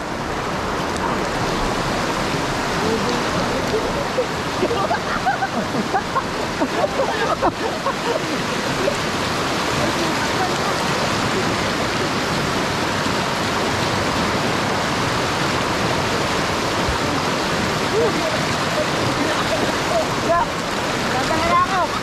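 A strong river current rushes loudly and continuously, a dense, steady wash of water noise that fills the whole stretch without a break.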